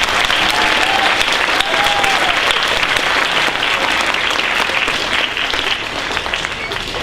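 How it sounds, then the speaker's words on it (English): School assembly audience applauding Ellie at a STEAM celebration, a dense, loud, sustained roar of many hands clapping with faint crowd murmur and an occasional voice underneath. "I think we should also give Ellie a round of applause."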